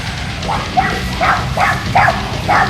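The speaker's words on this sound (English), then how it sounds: "get a little bit more dog action" Several dogs bark in short repeated yaps near a pond outdoors, about six quick bursts in steady rhythm over a constant low background rumble, fairly close and loud.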